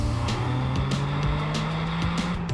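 A Toyota GR Corolla with all-wheel drive accelerates hard, its engine note loud and close, climbing steadily in pitch as the revs build through the power band without a break.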